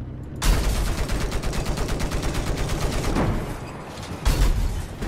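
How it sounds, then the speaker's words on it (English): Sustained automatic gunfire in Battlefield 4 multiplayer, with rapid bursts of shots rattling continuously at close range and a heavy blast near the end. "Somebody was shooting at me."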